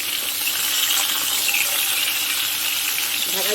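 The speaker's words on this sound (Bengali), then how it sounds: "ভালো করে তেলে ভেজে নুন দিয়ে পুরো অর্ধেক সেদ্ধ করে নেব।" Green mango pieces frying in hot oil give a steady, close sizzle with fine crackling throughout, loud and unbroken, with no talking over it.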